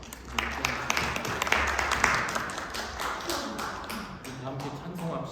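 A congregation applauds during a Korean church Sunday worship service, a dense run of many hands clapping at a steady moderate level that carries through the whole stretch, with some speech audible alongside.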